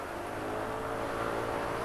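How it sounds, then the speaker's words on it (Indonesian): Older Yamaha NMAX scooter engine idling at low RPM on Pertamax Turbo fuel, a steady, loud, close-up drone with a broad whirring hiss and no rise in pitch, no voices. "respon mesin di RPM rendah"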